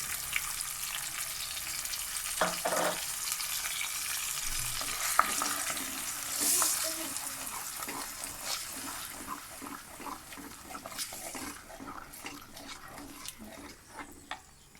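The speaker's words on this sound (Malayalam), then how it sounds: "പിന്നെ നമ്മൾ ഈ അരച്ച് വെച്ചിട്ടുള്ള ആ മിക്സ് അതിലേക്കിടാം." A ground spice paste hits hot coconut oil with curry leaves already in the pan, giving a steady bubbling sizzle with scraping stirs that gradually softens.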